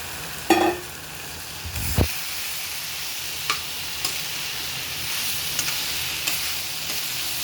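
Soya chunks frying in a wok give a steady, dense sizzle throughout. A few sharp clanks and taps of utensils sound near the start and later. The sound is close, with no talking.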